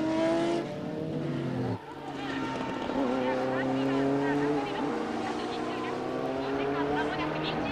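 A Silk Cut Jaguar race car screams past at Fuji in the 1988 WEC race, its engine note rising and falling through gear changes with a brief dip mid-pass, loud and close beneath continuous commentary.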